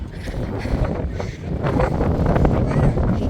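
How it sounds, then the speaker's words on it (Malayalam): Strong wind rushes and buffets against the microphone in a continuous roar that grows louder toward the end. "ഭയങ്കരമായിട്ട് കാറ്റടിക്കുന്നുണ്ട്"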